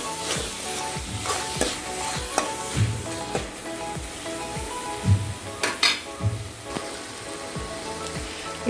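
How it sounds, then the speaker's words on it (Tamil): Turmeric and salt stirred into Tamil sodhi for idiyappam, a steady close sizzle with repeated scraping spoon strokes and a few louder knocks against the pan, no one talking. "தேவையான அளவு உப்பு எல்லாம் சேர்த்துட்டு ஒரு மிக்ஸ் பண்ணிக்கோங்க"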